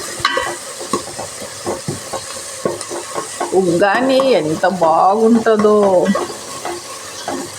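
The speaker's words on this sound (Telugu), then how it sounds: "మిగిలిన టమాటాలు కూడా వేసి మూత పెట్టి మధ్యలో ఇలాగా కలుపుతూ ఉండండి, లేకుంటే మాడిపోతుంది అన్నమాట తాలింపు." Tomato tempering stirred in a covered pan gives a steady sizzle with scraping stirs throughout, while a person talks over it for most of the stretch.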